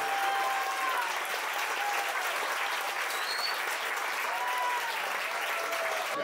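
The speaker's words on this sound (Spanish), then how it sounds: "Y les damos un fuerte aplauso por este reconocimiento que vale la pena exaltar." An audience applauds steadily for an award plaque presented to a foundation at a ceremony, an even wash of many clapping hands throughout at a moderate distance, with no voices over it.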